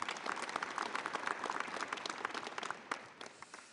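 A crowd applauds the Busan mayor, Heo Nam-sik, at the KIMA Week 2013 opening ceremony. The clapping is dense and fairly distant, then thins into scattered claps as it fades.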